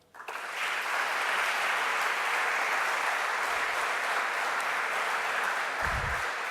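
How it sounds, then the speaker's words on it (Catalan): Loud, sustained applause from an audience at a Catalan technology awards ceremony honouring a jury, rising quickly and holding steady dense clapping throughout. "amb un fort aplaudiment"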